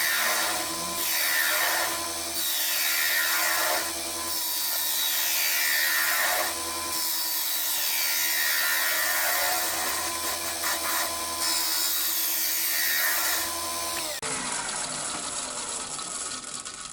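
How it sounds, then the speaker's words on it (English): A spindle gouge with an Ellsworth grind cuts wood spinning on a lathe, loud and close, the steady motor hum carrying repeated swelling, hissing cuts that stop abruptly near the end. "Using my favourite spindle gouge, the Ellsworth grind on it, and again, take your time, nice gentle cuts."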